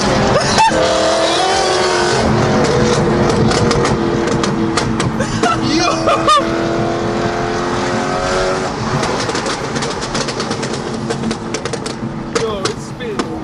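BMW E92 M3 with a loud aftermarket exhaust, revving hard and spitting flames while drifting in the rain, engine roar with tire noise and sharp pops throughout, a voice talking over it.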